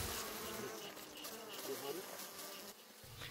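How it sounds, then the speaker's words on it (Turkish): Bees hum steadily around a seventy-year-old apiary of basket hives made from poplar wood and coated with cow dung and straw, in a remote rugged area; a dense, faint, continuous buzz with no voices. "Arılar huzurlu çalışıyor."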